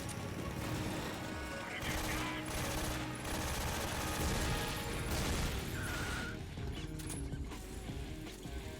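Missiles fired in Metal Gear Solid 3: Snake Eater make a dense, loud barrage of rapid bursts and mechanical clatter over a continuous game soundtrack, with a whooshing streak near the end.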